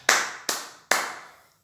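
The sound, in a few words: church congregation clapping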